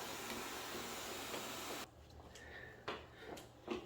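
A household vacuum cleaner runs with a steady, loud whooshing drone for about two seconds, then cuts off abruptly, leaving a quiet room with a few faint knocks and rustles.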